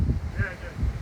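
Outdoor wind buffets a microphone at a beach house building site in Barbados, giving rough, gusty low rumbling bursts that rise and fall throughout.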